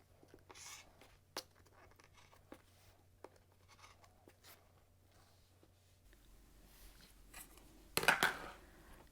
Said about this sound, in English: again I'm going to cut 2 5-inch by 5-inch squares